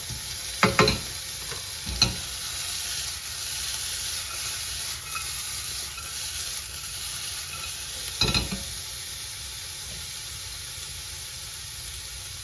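Onions for a patty melt sauté slowly in a pan, a soft steady sizzle with a few sharp stirring scrapes near the start and again toward the end.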